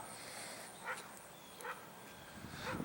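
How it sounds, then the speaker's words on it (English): A dog barks a few times in the distance among neighboring houses, three soft, spaced yips standing out over a quiet outdoor hiss. "Oh, I hear a dog barking."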